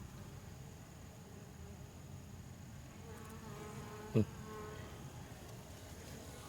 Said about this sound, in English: I've got a bunch of bees on the ground here too